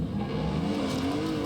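A car engine in the Wreckfest 2 video game drones steadily at high revs with faint tyre scrub, loud and close, with no talk over it.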